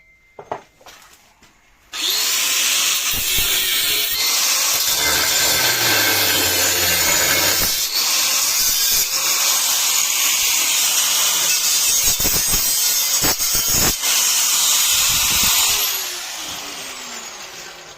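A power tool trims a bolt for a homemade cockpit, running as a loud, steady, harsh grinding whine for about fourteen seconds after a few brief knocks, then winding down.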